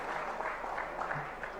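An audience at a religious gathering applauds steadily for under two seconds with a dense, continuous patter of clapping.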